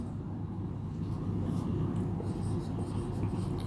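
A teacher writes words on a board during a Sanskrit grammar lesson, a steady scratchy rasp running close and continuous over a low room hum.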